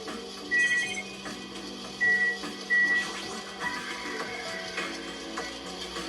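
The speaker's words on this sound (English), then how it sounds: "The automatic machine looks like it's making something." An automatic machine runs inside a video game factory, giving off whirring, clicking mechanical sounds with short tonal beeps and a few louder clunks, fairly quiet and without any talk.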